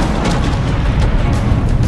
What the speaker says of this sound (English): the land was deafened by a series of four huge explosions